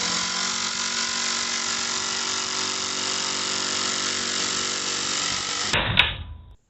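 Impact driver sinking a 3.5 inch Torx head screw with a T40 bit, a loud steady buzzing whine for several seconds ending in a sharp clatter as the screw seats and the tool stops.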